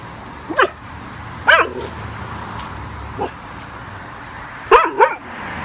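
A dog barks in short bursts at pants hanging on a fence outdoors, with four or five sharp, fairly close barks spread out unevenly and quiet gaps between them.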